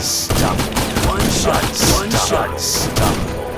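Sniper rifle shots in the Sniper Arena video game fire in a rapid, loud series of sharp cracks with thuds, spaced about a half second apart. Faint voice-like sound appears between shots.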